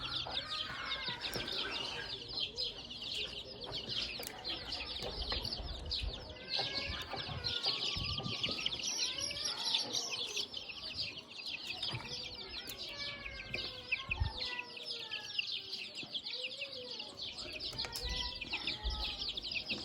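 Week-old chicks cheep in a steady, busy chorus of high, close peeps, with occasional lower clucks and brief wing flutters mixed in throughout.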